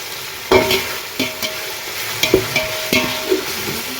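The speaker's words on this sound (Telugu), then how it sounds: "అల్లం పేస్ట్ బాగా ఫ్రై అవ్వాలి." Ginger paste frying in oil for biryani, loud sizzling broken by repeated scraping stirs of a spatula against the pan, several sharp strokes spaced across the stretch, with no talking.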